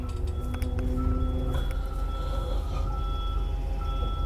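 A bus backing up slowly during a reversing maneuver sounds its warning alarm, a string of steady electronic beeps over a low engine rumble, close by with no talking.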